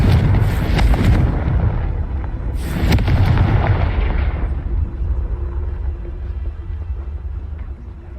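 A fiery Confringo spell explosion in the Hogwarts Legacy video game lands as two loud booming blasts a couple of seconds apart, then trails off into a low rumbling fade.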